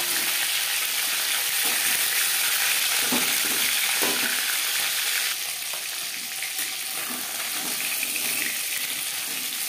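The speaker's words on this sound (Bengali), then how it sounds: "একটা সাইড ভাজা হয়ে গেলে অপর সাইডটা উল্টে দেবো।" Pieces of shol fish fry in a modest amount of hot oil with a continuous bright sizzle. Occasional clinks and scrapes of stirring break through the crackle.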